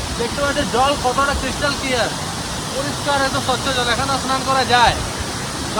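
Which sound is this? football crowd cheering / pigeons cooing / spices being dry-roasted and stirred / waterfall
waterfall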